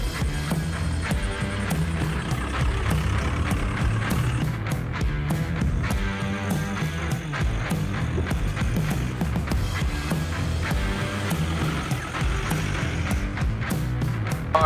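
A diesel-swapped Willys Jeep Wagon drives off-road, its engine a steady, loud rumble throughout with repeated knocks and rattles from the bumpy ground, and no talking.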